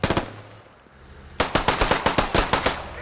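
Rapid pistol shots in a tactical shooter video game match: a quick burst at the start, a short lull, then about eight sharp, evenly spaced shots, loud and close, with no talking.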